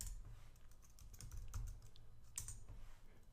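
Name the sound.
typing a command on a computer keyboard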